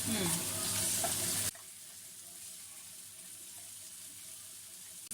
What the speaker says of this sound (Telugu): ఈ 2 టమాటాలు కొద్దిగా వేయించుకుంటే చాలు.